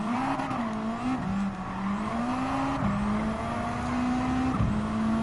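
Ford Focus Group B rally car in Gran Turismo 7, its engine droning steadily at high revs with gear-shift dips and a brief tire squeal, loud and close with no talk.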